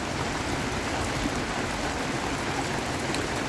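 Heavy rain pours steadily during a noon walk in southern Slovenia amid flooding, a dense, loud, unbroken hiss with no pauses across the whole stretch.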